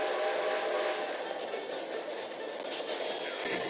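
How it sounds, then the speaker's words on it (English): A train rumbles past at close range in the western game Red Dead Redemption 2, a loud sustained clatter and roar of rail cars with a shrill whistle-like tone on top, no voices. "Gotta beat that train, Morgan!"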